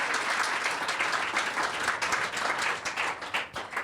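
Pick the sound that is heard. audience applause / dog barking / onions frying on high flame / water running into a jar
audience applause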